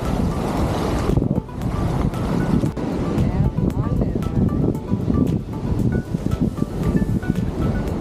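Ocean surf breaking on a beach at Deep Creek National Park, a steady loud wash of waves with heavy wind rumble on the microphone and a person talking over it.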